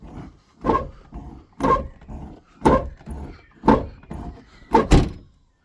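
An old, battered car's door is opened and shut repeatedly, six clunking, creaky bursts about a second apart, close and loud with brief quiet gaps between them.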